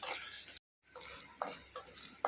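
Spices crackling in hot oil while being stirred in a pan for onion masala dosa filling, a steady close sizzle broken by a short silent gap and a few sharp pops and scrapes.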